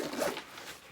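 A pocket zipper on a Vanquest Katara 16 backpack is pulled open in one quick, close rasping stroke that fades out within a second.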